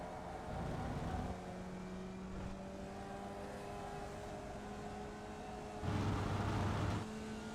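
Formula Vee race car engine in iRacing, a steady droning hum with brief louder revving surges, no talk.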